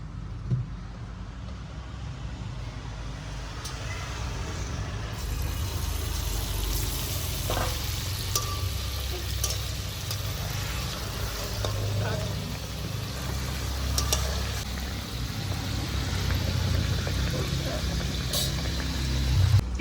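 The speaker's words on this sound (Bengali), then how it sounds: "তেলটা গরম হয়ে গিয়েছে এবার আমি একে একে পিঠাগুলো ছেড়ে দেবো" Nakshi pitha, a patterned Bengali rice-flour cake, frying in hot oil in a wok, giving a steady, continuous sizzle and bubbling that stays fairly loud and close throughout, with occasional faint clinks over it.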